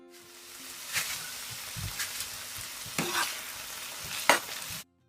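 Jerk chicken pieces fry in hot oil in a pot while being stirred, a continuous close sizzle broken by several sharp scraping and clattering stirs, with no voices.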